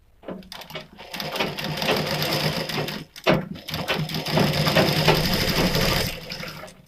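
A sewing machine runs in steady stitching bursts while sewing a Katori cut blouse, with a brief pause near the middle and the motor whirring close and loud throughout.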